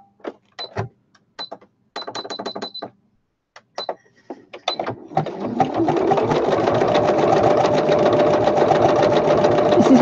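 A domestic sewing machine stitches a honeycomb pattern, starting with short bursts of whirring and clicking, then settling into a steady, continuous run that lasts the rest of the stretch, close and fairly loud.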